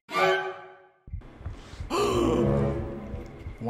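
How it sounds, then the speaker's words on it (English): A video game character in Saiko no Sutoka, Halloween edition, lets out breathy gasps and sighs, close and fairly loud, with a drawn-out exhale after a short pause and more strained breathing under ambient game sounds. "Why start gasping for air?"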